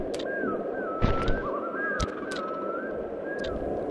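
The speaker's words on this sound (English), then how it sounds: "That bird call, which you may have heard in a number of movies, is from something called a loon." A loon's wavering, mournful call drifts through the northern lighthouse level of the video game Sly 2. The call is a faint, sustained warble over a soft ambient bed, broken by a few sharp clicks.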